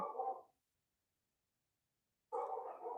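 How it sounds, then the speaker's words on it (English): Pet dogs bark in two short bursts of rapid yapping separated by about two seconds of silence, heard from a moderate distance. "my dogs are barking"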